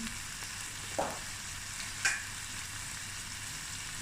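Chicken akhni with biryani masala sizzles softly and steadily in the pan, broken by two brief scraping knocks as it is stirred.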